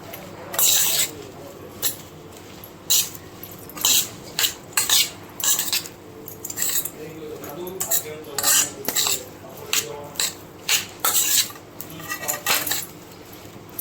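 A metal spoon clinks and scrapes against a pot in repeated irregular bursts, mixing hot batata vada filling close up, with no talking.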